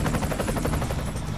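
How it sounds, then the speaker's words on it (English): Military helicopters in an action horror movie scene, a dense continuous rotor roar with rapid chopping pulses, loud and close throughout the short burst, no voices. "I want the rest of those helicopters up in the air right now!"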